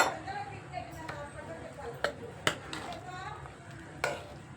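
A spoon stirs salt into a pot of bottle gourd and tomato dal, making soft, continuous scraping and sloshing with a few sharp clicks against the pot, under a nearby voice.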